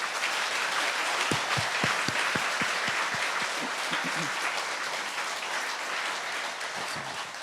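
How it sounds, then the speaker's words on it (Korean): A church congregation at a Sunday service applauds steadily, a dense wash of many hands with a few distinct louder claps near the start, sustained throughout. "거듭나신 장로님들을 위해서 한번 박수 한번 쳐줘요."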